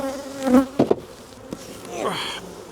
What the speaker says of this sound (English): So this box has got quite a lot of bees inside